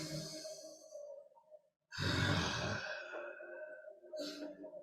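A performer's voice imitates a monstrous creature's erratic breathing during a tabletop fantasy battle: heavy, uneven sighs and gasping breaths in bursts, with a brief pause mid-way before a louder, rougher exhale and a fainter breath at the end.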